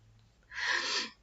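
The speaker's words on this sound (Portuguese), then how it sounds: "Desculpa, vontade de espirrar." A single breathy burst of a sneeze, close and fairly loud, lasting about half a second with no talk around it.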